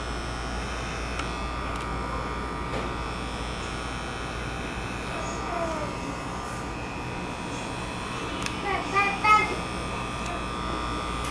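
Electric hair clippers buzz in a steady, close hum while cutting hair during a 90-degree haircut, with brief snips and handling noises near the end.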